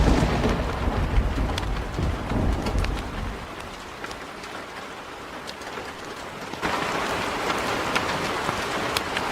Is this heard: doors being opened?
no